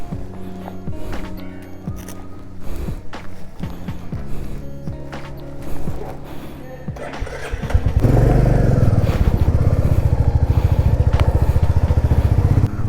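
A motorcycle loaded for a ride to Manali sits through a few seconds of clunks and handling noises, then its engine fires and settles into a loud, steady, close idle rumble.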